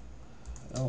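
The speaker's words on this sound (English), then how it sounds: "I'm going to type in" A short burst of keystrokes as a command is typed on a computer keyboard into a terminal, a few close soft clicks in under a second.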